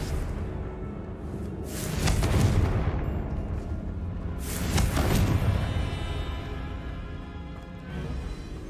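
The Confringo blasting spell from Hogwarts Legacy goes off twice in the game, each cast a loud rumbling explosion with a whooshing burst that swells and fades, the two blasts about three seconds apart over steady background noise.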